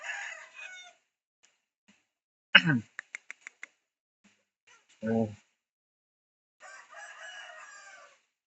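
A young fighting rooster of about 2 kilograms crows once, loud and close, with short bursts of other bird calls, a brief exclamation and quiet gaps between them.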